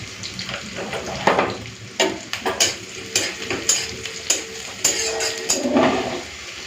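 Green chillies and five-spice tempering crackle in hot oil in a pan, a close sizzle broken by repeated stirring scrapes and sharp bursts of spattering.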